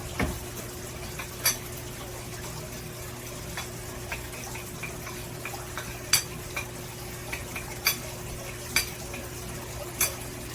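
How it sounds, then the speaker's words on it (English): Hot honey seasoning mixture gets stirred in a bowl, faint scattered clinks of a utensil against the dish over a low steady background hum. "And I'm going to stir that up."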